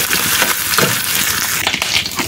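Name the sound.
frying dried fish (shutki) in a pan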